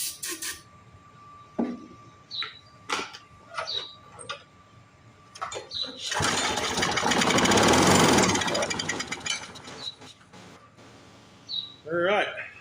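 A stuck Briggs & Stratton 6.0 hp small engine, revived after sitting, gives a few single pops and then a loud burst of sputtering running lasting several seconds, with people talking before and after.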